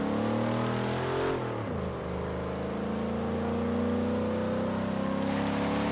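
A Crown Victoria Police Interceptor with a V8 engine drives in Forza Horizon 3. The engine hums steadily and close, eases off with a dip in pitch, then settles back into a smooth, even drone.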